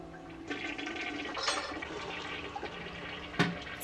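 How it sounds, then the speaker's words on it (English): Toilet flushing in a scene from the film Psycho: a faint, steady rush and gurgle of draining water running throughout, with a few small splashes and a brief sharper clunk near the end, no voices. "they made the flushing of that toilet like integral to the plot of the movie"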